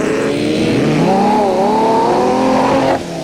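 An off-road racing car at Sun City in 1991 runs through a disused quarry section of the course, its engine roaring loud and close with rising revs over about three seconds before easing off.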